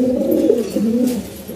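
Pigeons cooing close by, a steady run of low, throaty rolling coos that swell and fade over a couple of seconds with no voices.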